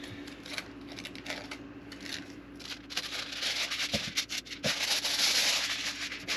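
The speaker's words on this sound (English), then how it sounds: "where's my aluminum foil?" Aluminum foil is crinkled and handled up close while guitar sides are bent on a machine, a run of crisp crackling and rustling that grows busier and louder toward the end, with no talk.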